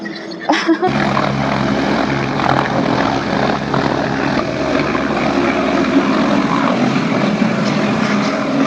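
Helicopter in flight on the route to Kedarnath, a loud, steady rotor and engine roar that fills the cabin from start to finish, with no talk over it.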